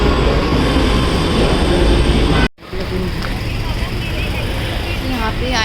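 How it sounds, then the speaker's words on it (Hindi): A Delhi metro train hums and rumbles steadily during boarding, with a brief cut in the middle, then continuing with faint station noise and a few high tones. "अभी मैं बस मेट्रो बोर्ड करने लगी हूँ"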